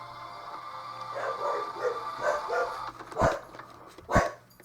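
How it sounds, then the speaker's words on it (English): Dogs bark and yip in a game trailer, a run of short barks building to two sharp, loud barks near the end over a low hum. "Oh boy, the dogs are upset."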